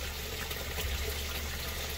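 Water flows steadily into the influent pipe of a radial flow settling tank in a 100-gallon fish tank aquaponics setup, a constant close gushing and trickling with no breaks or voices.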